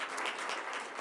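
A brief wash of steady audience applause fills a school board meeting hall, fairly soft and evenly dense throughout.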